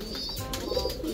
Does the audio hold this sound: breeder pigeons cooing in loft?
yes